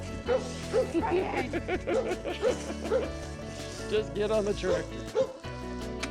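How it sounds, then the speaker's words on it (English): A dog barks in short repeated yaps outdoors, where a tractor is being hooked up with cable pulls for fence-post work, while someone talks over the barking. "the dog's barking and it's making me upset"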